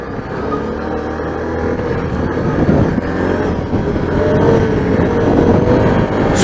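A car engine pulls at low revs, around 2,000–3,000 rpm, under light throttle, a loud steady drone close to the microphone with a gradual rise in intensity and no speech.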